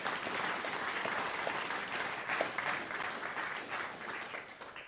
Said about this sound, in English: let's give Carlos and Quinlan a big round of applause